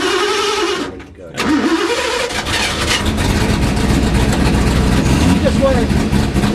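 Ford GT40 MKII, chassis 1032, cranks briefly, then catches and bursts into a loud, rough idle that keeps running close by. People talk over the engine.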